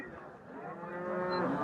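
A cow at a livestock market gives a single long, rising moo, close and fairly loud, with no talk over it.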